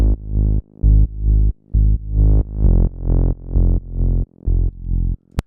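Crunchy, distorted synth bass group from an Ableton melodic house track at 132 BPM, playing a loud rhythmic pattern of sustained, gritty notes separated by short gaps, heard alone without talk.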